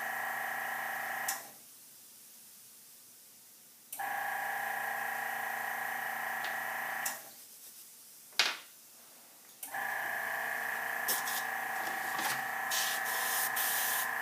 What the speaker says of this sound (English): Turn on the air compressor.